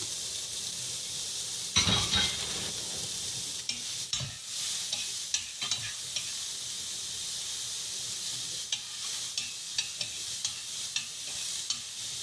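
Onions sauté in a pan with a constant hissing sizzle and repeated scraping stirs at a steady pace.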